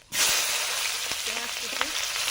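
Dried red chillies and panch phoron five-spice seeds hit hot oil with a sudden, loud, steady sizzle that carries on throughout, with a brief voice faintly underneath.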